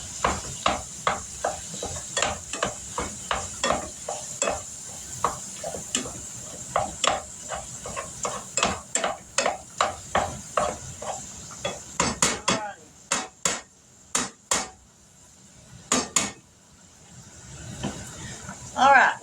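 A utensil clacks rhythmically against a pan, chopping and stirring hamburger meat as it cooks, with quick repeated taps that grow louder and sharper near the end, while someone talks now and then.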